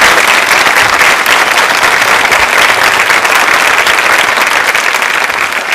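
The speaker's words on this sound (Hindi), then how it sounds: "तालियां जोरों से बजाइए।" A studio audience at a quiz show's 21st anniversary breaks into loud, dense applause, a continuous wash of clapping that holds strong throughout before tapering a little at the end.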